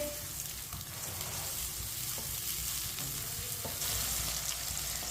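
Finely chopped onions frying in a cup of oil for kaddu chicken, giving a dense, continuous sizzle close up, with faint clinks from occasional stirring.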